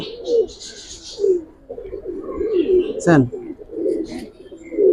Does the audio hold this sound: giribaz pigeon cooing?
yes